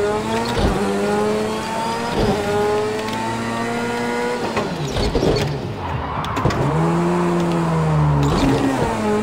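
A car drifting, its engine loud and close, repeatedly revving up and dropping back in surging waves over several seconds, with tire noise mixed in and no talk.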